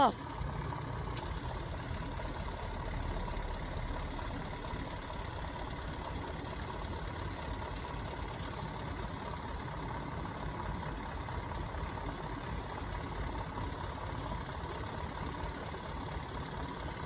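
Large truck delivering concrete house poles idles and moves in nearby with a steady engine rumble, a faint series of high reversing beeps and a hiss of air brakes, under occasional voices.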